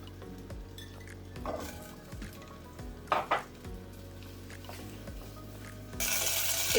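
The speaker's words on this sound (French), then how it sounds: "Je vais mettre les pois chiches." Chickpeas go into a pan of clarified butter and are stirred, making a continuous sizzle with repeated scraping strokes and metallic clinks. The sizzle swells louder near the end.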